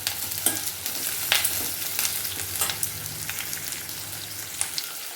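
Dried red chili pieces and curry leaves crackle in hot oil for an Andhra-style ulavacharu, with a steady close sizzle broken by sharp pops and occasional scraping stirs.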